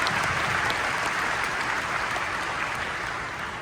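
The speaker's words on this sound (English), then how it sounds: "Big round of applause." Steady, dense audience applause fills a keynote hall at a corporate tech conference, loud and sustained throughout before tapering slightly at the end.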